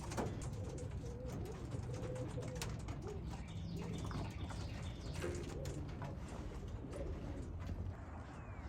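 Racing pigeons coo repeatedly as they return to the loft after an old bird race, with soft chirps and brief wing flaps in a busy outdoor setting.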